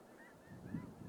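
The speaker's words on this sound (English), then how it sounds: "It's a flock of snow geese" A flock of snow geese in a field, several faint overlapping honks in quick succession at a distance.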